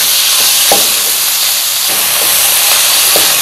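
Small boneless chicken pieces, about 150 grams, cook in a hot pan with a steady hiss and sizzle. A few soft clicks and stirring knocks rise above it, and no one speaks.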